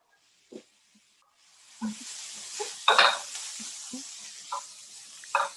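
Corn sizzles and hisses in a pan as it is sautéed along with green bell peppers, with intermittent stirring scrapes and clinks over a steady frying hiss, no talking.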